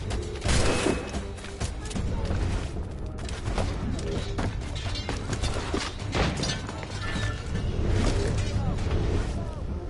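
Enemy ships fire back in a naval battle in the video game Assassin's Creed Rogue, with dense, continuous cannon and gunfire booms and crackling impacts under shouting voices.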